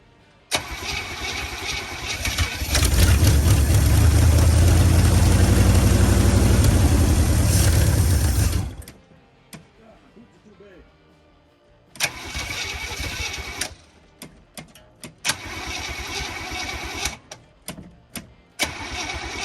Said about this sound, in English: this thing should fire up, and if it's gonna idle, it'll idle right now